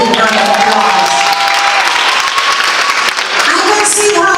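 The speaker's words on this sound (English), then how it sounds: "give him a big round of applause" Guests at a Jamaican wedding applaud loudly, the clapping dense and continuous alongside cheers and lively crowd voices, with music and talk mixed in.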